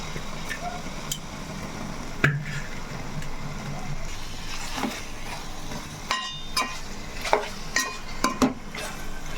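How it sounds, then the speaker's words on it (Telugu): Fresh fish pieces stirred in a cooking pan, with scraping and clinking of a utensil against the metal over a low sizzle, a few sharper knocks near the end. "ఇలా ఒక్కసారి వేసినప్పుడే ఒకసారి కలుపుకోవాలండి"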